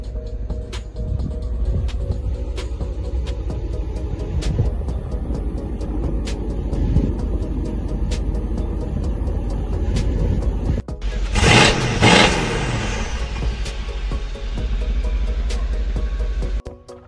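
A 2013 Maserati Quattroporte S runs at a low, steady hum, then a loud, sharp engine burst near the end swells briefly before settling back into a continuous close idle.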